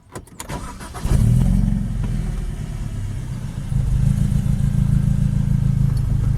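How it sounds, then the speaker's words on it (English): A BMW E91 engine starts with a brief crank and settles into a deep, loud idling stainless steel exhaust burble with a slight raspy edge, close by. "Has a nice little stainless steel burble, just a little bit of rasp to it"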